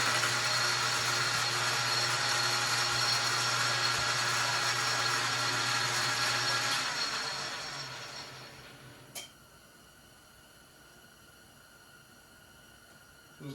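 A steady machine whine and hum from a running lathe facing a piston slightly off in the jaws, winding down around seven seconds and fading to a quiet hum, with a brief sharp tick near the end.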